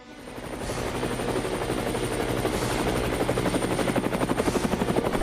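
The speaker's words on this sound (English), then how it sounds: "That helicopter must have just left the roof I'm heading for." A helicopter's rotor thumps grow louder as it approaches, the rapid chopping beat becoming sharper and closer toward the end.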